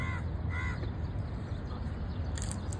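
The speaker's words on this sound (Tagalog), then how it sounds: "Ayun yung mga uwak." Several crows caw repeatedly in the distance near a river, over a steady outdoor background hiss, harsh calls coming in short bursts.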